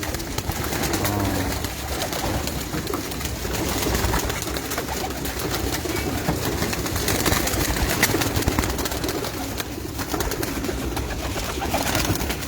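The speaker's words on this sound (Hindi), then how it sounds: "ये जोड़े तोड़े हुए बड़े कबूतर" Pigeons coo steadily on a rooftop among paired adult male birds, a dense continuous bed of cooing and rustling close to the listener, with no talk over it.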